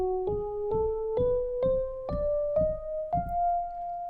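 A rising octatonic scale beginning with a half step, played as eight clear, evenly spaced tones that climb step by step, each note struck and left to ring into the next, heard alone.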